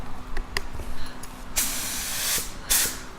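A spray gun sprays sealer primer onto a car in two loud bursts of air hiss, one long and one short, with small clicks and handling noises between them.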